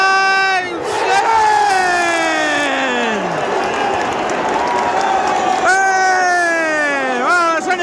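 A football crowd at the Etihad roars for a goal in a Manchester City vs AFC Bournemouth match, a loud sustained cheer with sharp chanting shouts rising and swelling throughout.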